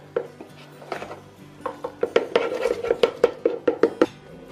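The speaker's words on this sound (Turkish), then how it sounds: "hazırlamış olduğum karışımımı kalıbımın içerisine döküyorum ve bir kaşıkla iyice sert olacak şekilde kalıbımın altına yerleştireceğim" A spoon scrapes and presses a cheesecake crust mixture down into a mold, giving a run of close, rhythmic metallic taps and scrapes that grows busier toward the end.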